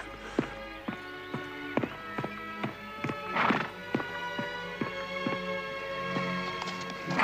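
A horse shifts about, hooves clip-clopping in uneven single knocks with a brief neigh midway, close and fairly clear with little else around.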